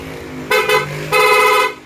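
Two loud electric horn blasts from an upgraded horn on a Honda ADV 160 motorcycle, a short double toot followed by a longer sustained honk, sounding close with a bright buzzy tone.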